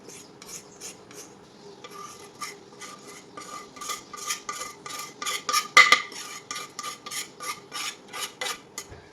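A spoon scrapes and stirs ground cardamom into khoa for gulab jamun, making a rapid, rhythmic rasping of metal against a pan that grows slightly louder in the middle, with no voices.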